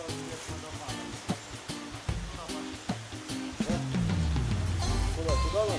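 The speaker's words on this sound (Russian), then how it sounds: "Вот водопадик, глянь, какой прикольный. Каскад прям целый." A small cascading waterfall at the Kapustinsky falls near Nikitino in Krasnodar Krai rushes steadily in the background while people talk close by over the water.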